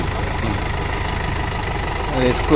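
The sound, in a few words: Mahindra 3DX tractor engine pulling loaded trolley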